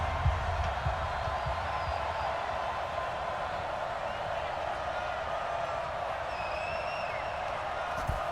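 Stadium crowd in the Madden NFL 20 football video game, Washington Redskins versus Dallas Cowboys, a continuous broad roar of cheering fans that stays fairly steady throughout, with faint whistles rising above it.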